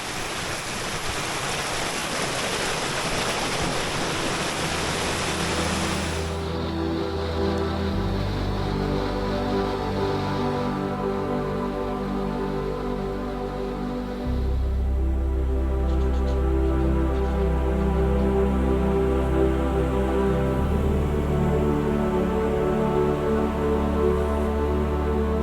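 A creek at Daisy Plains in New South Wales runs steadily and close by among tree ferns, a dense continuous wash of flowing water that holds level throughout with a deeper low rumble joining partway.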